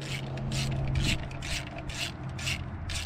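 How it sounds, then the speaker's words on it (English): Ratcheting clicks as a bolt on an old carburetor is tightened, a quick run of about seven scraping, rhythmic ratchet strokes over three seconds, close and fairly loud, with no talking. "Gonna try and confirm here that we can actually tighten this bolt up"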